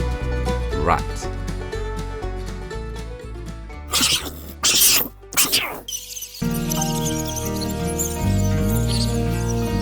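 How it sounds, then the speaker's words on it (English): A few sharp rat squeaks and sniffing bursts pop up in the middle, set against a cheerful nursery-rhyme music track that runs throughout. "Rat,"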